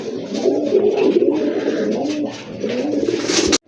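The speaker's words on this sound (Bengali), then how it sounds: "আরেক জোড়া কবুতর দেখতে পাচ্ছেন, খুবই সুন্দর এক জোড়া কবুতর" Pigeons coo close by in a bird market, a steady run of soft, throaty calls that continue without pause for several seconds before cutting off.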